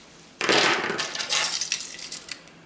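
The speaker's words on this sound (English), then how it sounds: "Keys, kept on a carabiner so I can separate them if I need to." Metal keys clipped to a carabiner jingle and clink together close by, a sudden bright rattle that trails off into scattered small chinks.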